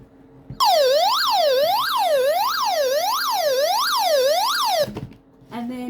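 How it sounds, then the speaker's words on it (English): A hand crank emergency radio sounds its SOS alarm: a loud, close siren that wails up and down in about eight steady even cycles for roughly four seconds, then cuts off into a brief clatter. "And then it has an SOS button."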